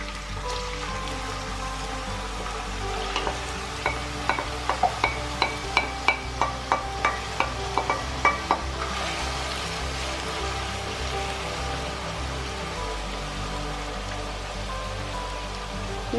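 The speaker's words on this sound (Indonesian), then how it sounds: "kita goreng kentangnya" Potatoes frying in a pan of hot oil while making crispy dry potato snacks, giving a steady, even sizzle and crackle with a burst of sharper pops in the middle, close up and with no talking.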